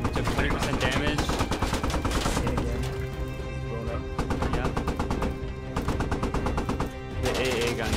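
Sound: anti-aircraft gun firing at an Abrams tank, video game

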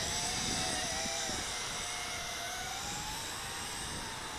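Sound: JJRC H26D remote-control quadcopter drone flying

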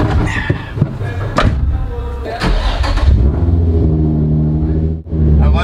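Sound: Nissan 350Z drift car engine starting and revving

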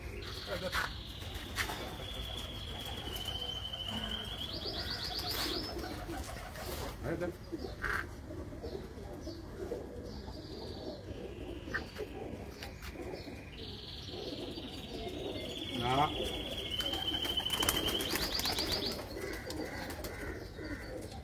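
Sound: pigeons cooing on a Sharjah rooftop

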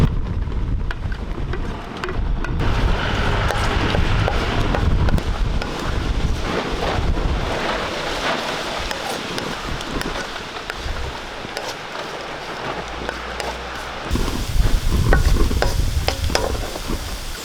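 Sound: fried bitter gourd added to gravy in a pan

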